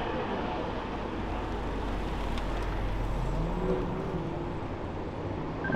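A BMW M4 accelerates hard on a track at the BMW Experience, its engine a continuous strained drone with rising whine and road roar at a steady, fairly loud level.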